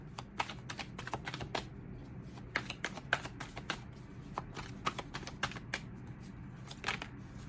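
Tarot cards are shuffled close by in a quiet room: bursts of crisp riffling and soft slaps come in uneven clusters over a low background hum, with no voices.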